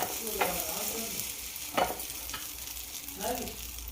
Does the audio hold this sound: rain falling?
no